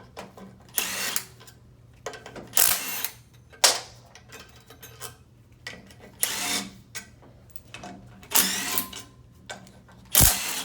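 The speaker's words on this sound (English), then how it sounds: "He's going to go ahead and remove his 6 bolts that hold the variators in place to the cover." Six bolts holding the variators to the cover of a 2008 Nissan Altima JF011E CVT transmission are removed, giving repeated close ratcheting and tool clicks in short bursts with pauses.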